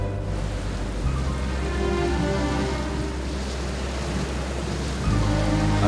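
Heavy rain pours steadily throughout with a low, constant rumble, moderately loud and without talk, in a scene set outdoors during a downpour.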